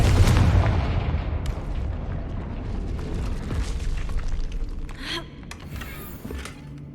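The Confringo blasting spell explodes in Hogwarts Legacy: a loud, deep boom at the start that decays into a rumbling tail, followed by scattered cracks and debris clatter.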